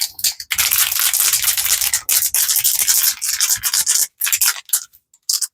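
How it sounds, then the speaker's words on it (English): A 2K clearcoat spray can shaken hard and continuously, a close, steady scratchy rattle with brief pauses near the end. "I've been shaking this for about 2 minutes."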